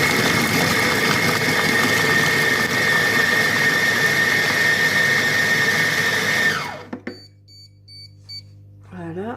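Compact Cook Pro food processor chopping chicken and carrots at speed 5, a loud steady motor whir that stops abruptly after several seconds, followed by a few soft beeps and clicks.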